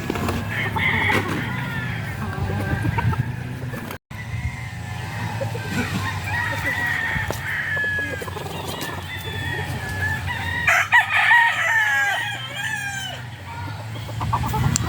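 An aggressive gray talisayin broodcock crows loudly and nearby among clucking chickens at a local breeding farm, with several rooster calls rising over steady background noise and someone talking throughout.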